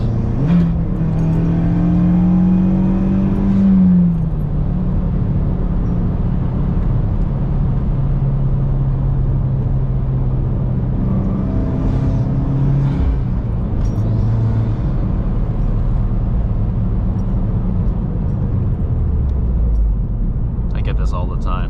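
A 2018 Subaru WRX engine revs up after a downshift from fourth gear at around 50–60 mph, a loud rising whine heard from inside the car over steady road rumble, with someone talking over it.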